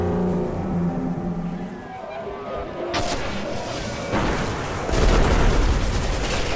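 A rocket launcher fires and explodes in the Destiny video game. The blasts are loud, with booming impacts arriving around the three- and five-second marks over a dense wash of game noise. A voice speaks faintly at times.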